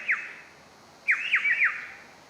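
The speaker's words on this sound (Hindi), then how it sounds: "पक्षी के कलरव हैं" Bird-call effect in a stage play: a short shrill squawk, a pause of about a second, then three quick chirping calls in a row, fairly close and clear over faint background hiss.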